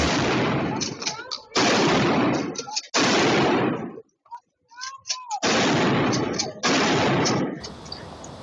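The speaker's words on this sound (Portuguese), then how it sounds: "dá para ouvir que foram muitos tiros, ao menos 11 em poucos segundos" A rapid string of gunshots rings out in several loud, sharp bursts separated by brief gaps, at least eleven shots within a few seconds, with faint echoes trailing between the volleys.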